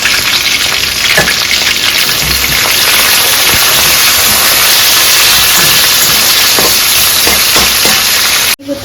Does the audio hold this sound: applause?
no